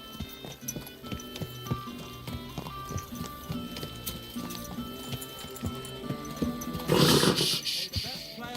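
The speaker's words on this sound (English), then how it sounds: "Easy, good horse" Horse hooves clip-clopping at a steady walking rhythm in the medieval game Kingdom Come Deliverance 2, over music and ambient game sounds, with a louder burst of noise near the end.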